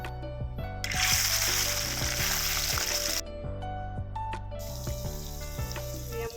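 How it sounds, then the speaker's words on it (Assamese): Fish frying in hot oil in a wok, a loud hissing sizzle that surges then settles, over a steady background of music with rhythmic notes. "এতিয়া ফ্ৰাই কৰিম মই মাছখিনি"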